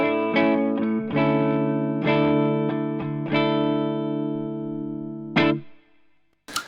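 Washburn HB32DM semi-hollow electric guitar on its middle pickup position, played through an effects chain with distortion and chorus: a run of strummed and picked notes ringing over each other, loud and close, ending in a short burst of noise.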